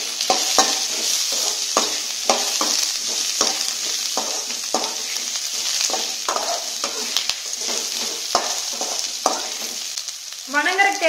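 Onions and garlic fry in a pan for a spicy kara chutney, a steady close sizzle broken by repeated scraping stirs of a spoon against the pan, with a brief rattling burst near the end.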